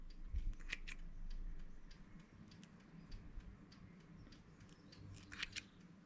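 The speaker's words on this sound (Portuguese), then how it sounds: "Esse fio de outra cor que foi começado, é só cortar com cuidado." Scissors snipping a contrasting-colour yarn on machine-knitted moss-stitch work, a few quiet, brief clicks spread across a soft background hum, with no talking.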